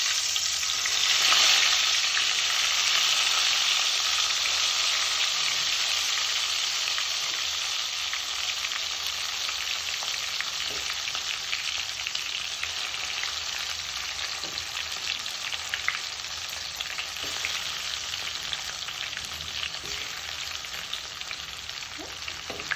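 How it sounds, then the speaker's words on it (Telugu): Brinjals fry in a generous amount of hot oil, giving a loud, steady crackling hiss that begins strong and eases slightly as it continues. "వేడయిందండి ఇప్పుడు వంకాయలు తీసుకొచ్చేస్తాను"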